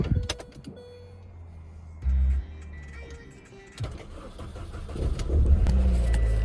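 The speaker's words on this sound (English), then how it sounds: "Oh yes, great news. The car starts again." A 2001 Mini Cooper engine, after fuel pump failure and repair, cranks with a brief whirring starter, stalls, then cranks again and catches, rising into a steady rumbling idle close by.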